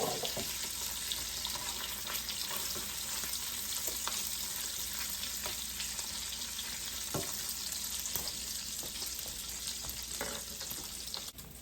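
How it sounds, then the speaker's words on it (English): Bacon frying in a pan for copycat Alice Springs chicken, a steady close hiss of sizzling fat with scattered small pops and crackles, continuous and even throughout. "While my bacon is finishing up here, it's almost done"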